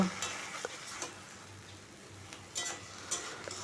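Bottle gourd greens and stalks stirred and mixed in a pan, a soft faint sizzle under scattered spatula scrapes and clicks, with no talking.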